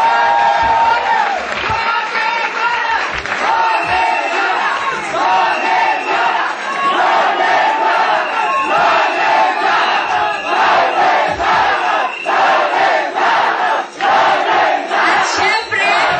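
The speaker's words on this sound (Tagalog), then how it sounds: "they all deserve another round of applause" A pageant audience roars with cheering, whooping and clapping, a loud, dense crowd noise that swells and stays sustained with brief dips, filling the hall continuously.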